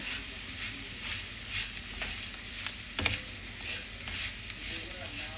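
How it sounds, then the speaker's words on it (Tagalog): Sugar caramelizing in a pan with dried anchovies, a steady close sizzle and hiss with occasional stirring scrapes and pops, no talking. "hanggang sa matunaw yung lahat ng asukal at dumikit sa ating dilis"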